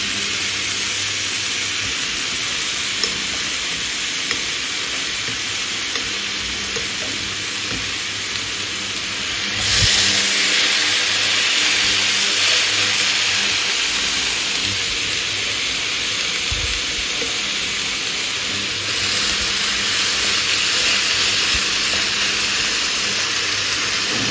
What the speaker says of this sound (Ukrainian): Я просто обожнюю, як воно шкварчить.